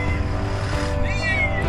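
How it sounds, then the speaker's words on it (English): A frightened cat trapped inside a car meows, its cry rising clearly over a steady low rumble of background noise. "When a man found a scared cat that was stuck inside his car"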